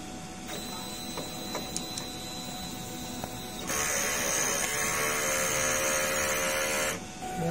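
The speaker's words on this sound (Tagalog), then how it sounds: "Head clean." A DTF printer runs a head clean cycle: a quiet whirring hum with a few small clicks, then a louder steady pumping buzz for about three seconds before it drops away.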